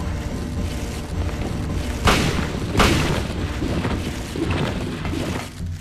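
Sawed-off shotgun blasts from the video game Silent Hill, two booming shots about a second apart over a dense, rumbling game soundscape, with no talking.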